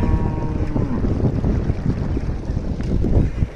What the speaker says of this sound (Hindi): अभी ट्यूबवेल चल रहा है